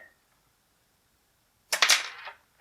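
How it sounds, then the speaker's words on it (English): A GI Joe Rise of Cobra Ice Dagger toy fires its missiles in one sharp, loud snapping pop with a quick rattling tail after a stretch of near silence, followed by a faint click at the very end. "I was hoping that by barely pressing the button, you can get it to fire one missile and then the other missile"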